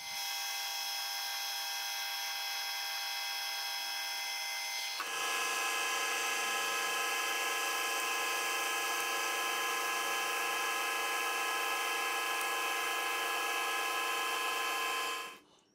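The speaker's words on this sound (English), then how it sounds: "I'm going to run coolant." MT3 fly cutter spinning on a mill with coolant running: a steady high machine whine, then a sudden jump to a louder, brighter cutting drone that holds for ten seconds before stopping abruptly.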